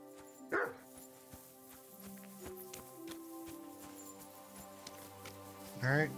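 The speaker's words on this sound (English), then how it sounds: "Alright, there's a dog over here, I guess." A dog barks in the video game Kingdom Come Deliverance 2: one short bark near the start and another near the end, over a bed of steady in-game music and ambience.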